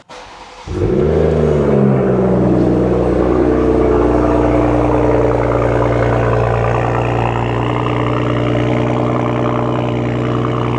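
A car with a muffler delete exhaust cold-starts: a brief crank, then the engine catches into a loud, raw, rumbling idle that holds steady and close.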